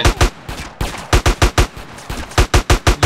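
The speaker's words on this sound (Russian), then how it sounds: "Откуда стреляет?" Gunfire in GTA San Andreas, a series of sharp, loud close-range shots fired in quick irregular bursts, about a dozen cracks in three seconds with no talking.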